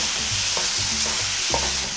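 Garlic, onion, chili and mushrooms being stirred in a sizzling pan, a steady frying hiss broken by a few scraping stir strokes, close and with no voices.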